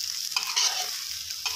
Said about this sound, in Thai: นี่ครับค่อยๆผัดไปนะครับ